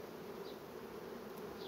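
Honeybees buzz at an open hive during a colony inspection, a steady close droning hum running the whole time with no break.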